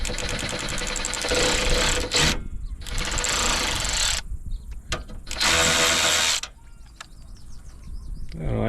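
An 18V brushless cordless 3/8 in. ratchet spins a 10mm bolt in loud, close bursts of motor whir lasting one to two seconds, separated by short pauses and light clicks.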